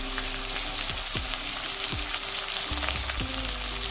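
Cut potatoes with nigella seeds, salt and turmeric fry in oil, with a loud, dense, continuous sizzle and occasional soft stirring scrapes up close.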